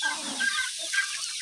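Native chickens and a rooster on a farm give a brief, close burst of excited clucking and squawking, with a few sharp calls in quick succession.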